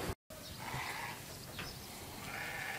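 Sheep bleat at a livestock market selling animals for Eid, a few faint cries over steady crowd and outdoor background noise.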